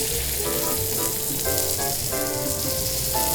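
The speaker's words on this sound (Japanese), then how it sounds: "皮のない身の面を焼く場合はさっと表面の色が変わる程度でとどめておきます" Nanatani duck breast sears on a teppan griddle, giving a loud, continuous, close-up sizzle with steady crackle and occasional faint rattles, no voices over it.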